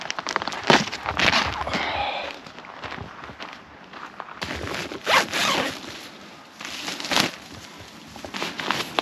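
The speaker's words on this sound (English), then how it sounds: "I'm not sure if that's a YKK zipper or not" The door zipper of a REI Co-Op Quarter Dome SL 1 tent is worked repeatedly up close, with several rasping zips and pauses mixed with fabric rustling.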